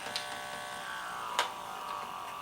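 A D-16 Portasens III gas detector powers up with a faint, steady electronic buzz, broken by a couple of short, sharp chirps or clicks near the start and middle.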